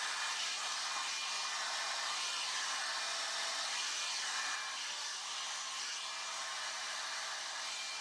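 Hair dryer fitted with a diffuser drying curly hair, a continuous steady whoosh close by, with a slight dip in level midway and no talking.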